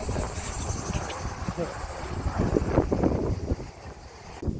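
Gusty wind buffets the microphone with low rumbling roars that swell and fade, a faint background hiss running steadily underneath.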